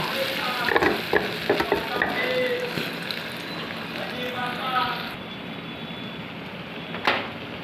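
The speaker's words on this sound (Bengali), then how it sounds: "বন্ধুরা এই যে আমি এবার এই বড়াটাকে এরকম করে ভেজে নেব" Pumpkin-leaf fritters (bora) fry in a pan for a Bengali recipe, giving a steady close sizzle with bursts of spatula scraping and clatter, and a low voice murmurs beneath it.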